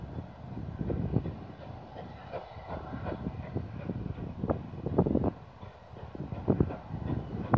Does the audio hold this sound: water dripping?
no